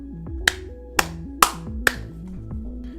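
Four sharp, isolated hand claps spaced roughly half a second apart, loud and close, standing out over a quiet background with a low tonal hum running underneath.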